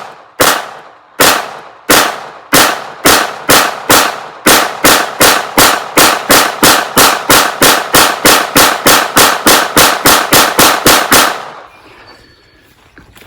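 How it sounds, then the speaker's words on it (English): A Kel Tec PMR 30 pistol is emptied at a rapid pace from a full magazine at five yards: around thirty loud, sharp gunshots, spaced out at first and then quickening into a steady string before stopping. "we're going to do a rapid fire with a full clip and see how we do"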